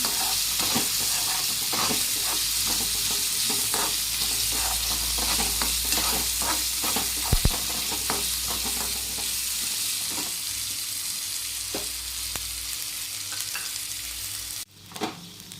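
Boiled chickpeas stir-frying with dry spices in a pan, a steady close sizzle with repeated scraping stirs throughout, fading near the end.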